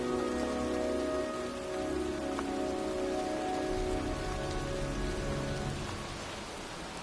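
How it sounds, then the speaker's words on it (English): Steady rain in a PS4 video game patters on a surface, a continuous even hiss of drops with a low rumble underneath and no voices. "It's cold. It's raining."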